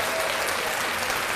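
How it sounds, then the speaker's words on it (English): A short burst of steady applause from a small group during a podcast recording, even and moderately loud, with no talking over it. "Let's clap that up."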